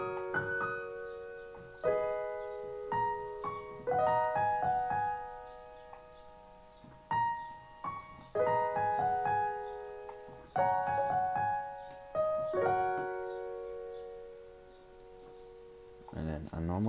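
Slow piano rendition of a song: sustained chords and single notes ring out and decay in spaced phrases, played clearly and alone.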